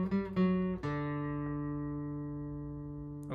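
Single notes are plucked on an acoustic guitar, fretted with the fingers. A few quick plucks are followed by a final note that rings out clearly and slowly fades, with no talking.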